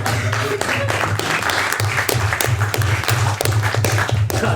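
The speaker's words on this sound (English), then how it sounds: "That didn't deserve an applause." Loud, dense audience applause fills a debating hall throughout, steady and close, with a low rhythmic hum running underneath.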